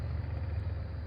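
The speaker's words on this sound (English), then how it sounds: "I can't stand to hear loud cars that don't go nowhere" A loud car engine rumbles low and steady for about a second, close by, with no voices.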